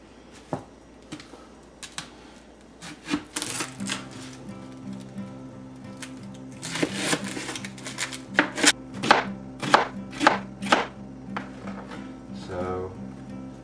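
A knife chops onions into small squares on a board, the blade striking in loose bursts of sharp knocks that speed into a quick, close run midway, with a voice murmuring briefly in places.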